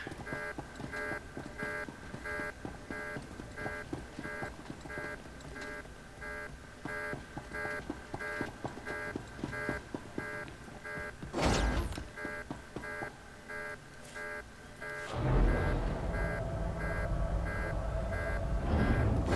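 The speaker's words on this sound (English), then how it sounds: "Probably going to be hearing this alarm the whole time." A repeating electronic alarm from the Star Wars: The Old Republic game, pulsing in a steady beeping pattern that runs throughout, with some brief bursts of game action layered over it.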